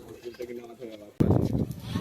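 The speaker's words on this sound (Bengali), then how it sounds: "কবুতর ফাঁসে আটকে গেছে" A pigeon coos softly in short repeated phrases, then an abrupt loud scuffle and flurry erupts nearby as it is caught in a snare, continuing in rough bursts.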